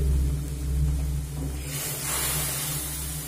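Spice paste frying in oil for chickpea dal with taro leaves, a steady close hiss over a low rumble that brightens into a stronger sizzle partway through, with no talking.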